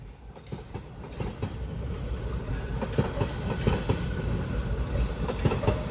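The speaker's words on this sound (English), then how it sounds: "here comes the westbound train" A Toronto subway train rumbles past close by, with rhythmic clickety-clack of wheels over rail joints and a steady roar that builds slightly as it goes.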